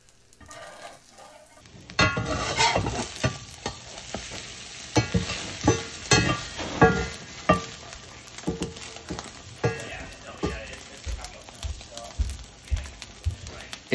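A cheese omelette fries in a pan over low heat, a steady sizzle breaking out after a quiet start and punctuated by repeated scraping and tapping of a utensil.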